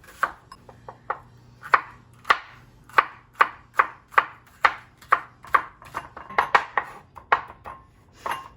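Knife chopping seasonings finely on a board for Honduran coconut conch soup, a brisk run of about twenty sharp, close, evenly spaced chops heard alone.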